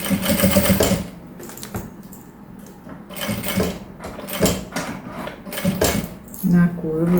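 A domestic sewing machine stitches piping onto a small fabric travel bag in several short bursts of rapid whirring and clatter, separated by pauses with light handling noises, close up.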